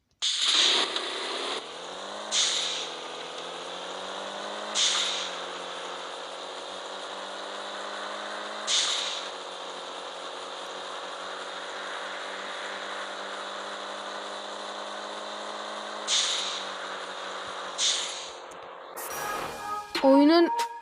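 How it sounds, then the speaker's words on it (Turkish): A car engine in the Car Parking 3D video game hums with a steady, droning tone. Sharp exhaust backfire pops punctuate it every few seconds, and a brief clatter closes the clip. "ses efektleri de çok güzel arkadaşlar. Egzoz böyle patlama efekti var."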